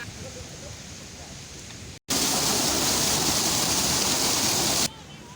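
Fast-flowing water rushing at a bathing spot in a scenic area near Taxila, a loud broadband roar that cuts in after a brief gap and runs steady for about three seconds before dropping back to a fainter background wash.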